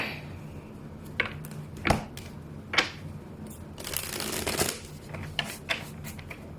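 Tarot cards being shuffled by hand, a close run of crisp riffling and slapping bursts with a longer dense flutter in the middle, no talk.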